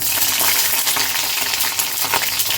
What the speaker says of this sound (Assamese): তেলখিনি গৰম হৈছে আৰু তেলতে দিছোঁ মই জলকীয়াকেইটা